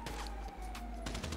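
Gunfire in the video game GTA 5, a few rapid weapon bursts fired close and loud over a steady game soundscape, with a brief siren-like tone running underneath.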